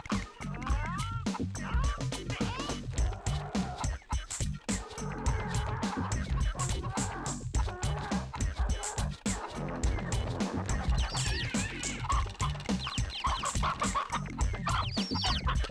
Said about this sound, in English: props to the OSC for like actually having real chicken sounds